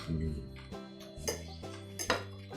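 Utensils clink and scrape against a dish as two breakfast casserole foods are stirred together, with several sharper metallic knocks standing out over a low background, close and moderately loud.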